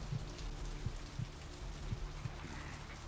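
Steady rain hisses across Vampire: The Masquerade – Bloodlines as a constant, moderately faint wash, with a few soft low thuds scattered through it and no talking.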